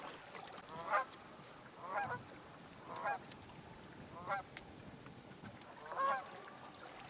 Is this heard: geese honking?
yes